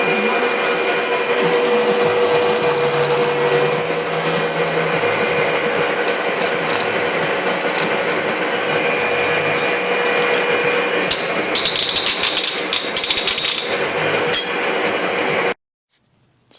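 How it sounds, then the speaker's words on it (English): A homemade impact hammer mill for crushing gold ore running with hammers spinning inside, a continuous loud mechanical whirring and clattering that rattles harder toward the end before cutting off abruptly. "this should be the action of these hammers when they're in the crusher and running"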